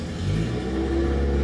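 A car engine revs up in second gear, a loud steady mid-pitched drone rising slightly in pitch, close and continuous with no talking.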